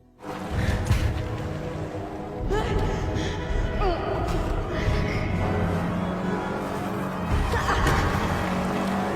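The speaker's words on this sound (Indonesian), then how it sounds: "polisi itu mengemudikan mobilnya secara ugal-ugalan" A police car driven recklessly, its engine roaring with rough tire squeals and thumps, loud and continuous under a speaking voice.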